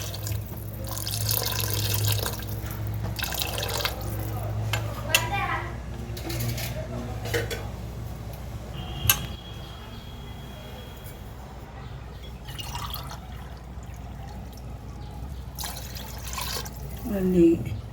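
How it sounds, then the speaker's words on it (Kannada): Water streams from a tap into a cooking pot for vegetable pulao, running in bursts with drips and clinks, while people talk nearby in the kitchen. "6 ಲೋಟ ನೀರು ಹಾಕೋದು."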